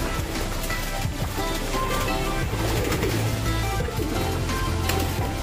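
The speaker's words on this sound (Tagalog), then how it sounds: "Ayan mga kalapatids." Pigeons coo in soft, repeated low calls amid steady outdoor background noise, heard fairly near with no talking.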